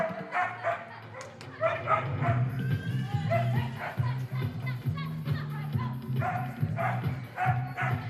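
A dog barks and yips excitedly in repeated bursts at an agility competition, fairly close, with whiny vocal sounds between barks and some background noise.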